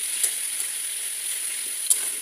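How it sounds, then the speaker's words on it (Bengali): Potatoes with spice paste fry in a pan, a soft even sizzle running throughout with a couple of faint clinks as they are stirred, alone with no talk. "এবার একটু ঢাকনাটা খুলে নাড়াচাড়া করে দেবো।"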